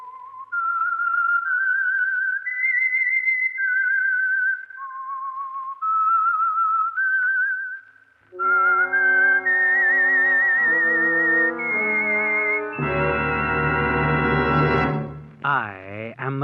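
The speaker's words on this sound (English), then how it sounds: "That whistle is your signal for the Signal Oil Program," A melody whistled for the radio mystery show The Whistler, with a solo whistled line of rising and falling notes, then the tune picked up by a louder orchestral accompaniment that swells toward the end.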